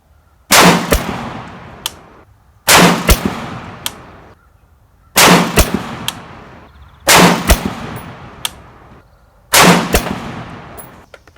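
Five loud, sharp rifle shots from a Rock River Arms 20-inch varmint rifle fire at a 100-yard range, each spaced about two seconds apart with a short ringing decay, and no voices.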